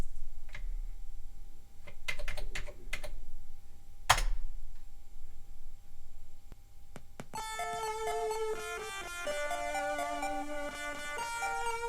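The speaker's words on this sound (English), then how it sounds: "Helps if I can type." Clicking keystrokes on a Commodore 128 computer keyboard: a few scattered taps and a brief cluster of clacks, followed by a bright electronic tone sequence playing steadily, with no talking.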